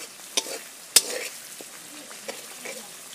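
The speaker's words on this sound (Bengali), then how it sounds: "মশলাটা কষিয়ে নিচ্ছি, সুন্দর করে ভেজে নিই।" Spice paste stir-fries in oil over a low flame on a traditional earthen stove: a soft continuous sizzle with scraping spoon strokes and a couple of sharp metallic clinks against the pan, close by.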